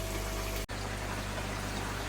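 Water pours steadily into an IBC fish tank during a refill, a constant near broadband rush with one brief dropout partway through.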